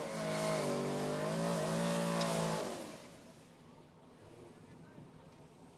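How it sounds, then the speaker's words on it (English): Chevrolet Camaro race cars, including a second-generation Camaro, roar past at a racing circuit, a loud droning engine note that cuts off abruptly and leaves quieter ambient noise. "Second Camaro taking on the second gen Camaro"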